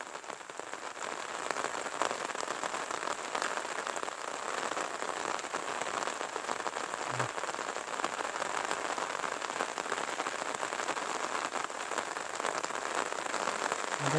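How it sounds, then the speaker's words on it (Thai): Steady rain falls across rice paddy fields on a wet, overcast day, a dense, even patter of drops on surfaces that continues without a break from start to finish, with no voices. "นี่นะครับบรรยากาศวันฝนตกฝนลินนะ"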